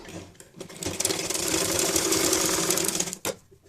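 A sewing machine stitches box pleats on a fabric rabbit hat, whirring steadily and close for about two seconds before it slows and stops, with no talking.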